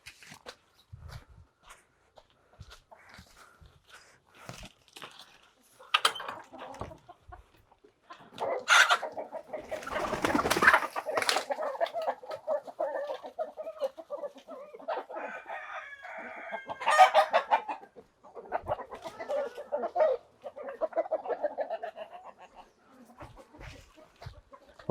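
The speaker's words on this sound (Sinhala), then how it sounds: "මං ගිහලා එන්න කුකුල් කූඩු අරලා." Chickens cluck and a rooster crows repeatedly at a backyard poultry setup with a cement tank as the coops are opened, the calls bunching loudly in the middle and tapering to sparse clucks, with no speech.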